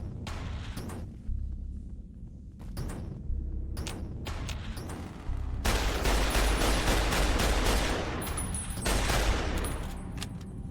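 Survivalist rifle gunfire in Fallout: New Vegas comes in separate loud cracks at first, then a denser burst of repeated shots with echoing tails in the second half.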